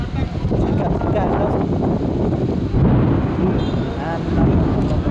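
Steady roaring windstorm with rain in Butwal buffets the microphone with a constant rushing wash of rain noise throughout, loud and unbroken.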